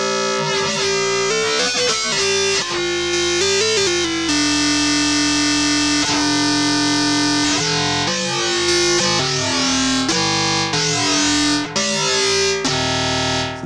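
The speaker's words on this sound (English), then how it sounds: "this is just like nasty distortion in a way, but it's not distortion. It's cross modulation" Hilda, a west coast style iOS synth by BramBos, played with cross modulation and wavefolding, giving a harsh, gritty, distortion-like tone. The pitch steps and glides continuously, loud and close, with no voices.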